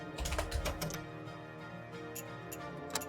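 Quick, soft keystrokes on a computer keyboard, a short run of light clicks over a faint steady background hum from a game.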